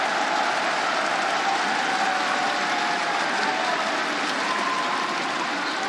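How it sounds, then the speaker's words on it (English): A Rainbow Six Siege Pro League finals crowd cheers and applauds in one continuous, dense roar that holds steady throughout, with no talk over it. "And just listen to that crowd."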